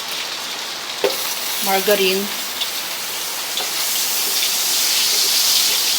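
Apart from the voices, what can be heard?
heavy rain falling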